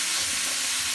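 Meat sauce browns in a pan with a steady, dense sizzle and hiss that fills the whole moment, close and continuous with no voices.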